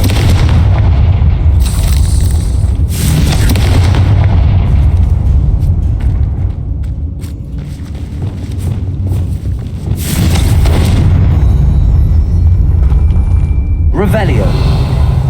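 Confringo spell blasts in Hogwarts Legacy, loud booming explosions that roll and rumble through most of the stretch, easing briefly before another burst and a sharp flare near the end.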